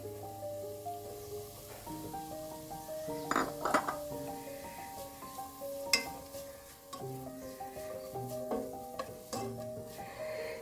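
Crushed chicken stirred into melted butter in a pan over a low flame, with steady scraping and clinks of a utensil against the pan under a soft sizzle and background music.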